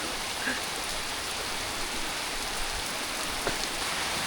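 Heavy rain pours at a resort in Coorg, a dense steady hiss of drops on surfaces that stays even and close, with a few faint taps and splashes standing out.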